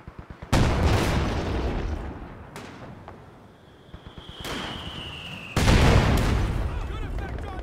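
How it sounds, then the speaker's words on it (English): Grenade explosions in Company of Heroes 2 land as loud broadband booms, one near 0.5 s, another near 5.5 s, with sharper bangs between, a brief whistle and a steady battle din of gunfire under them. "Grenades are on their way up to the lines."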